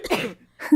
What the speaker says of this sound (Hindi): खांसते हुए ताबूत से जाग उठीं।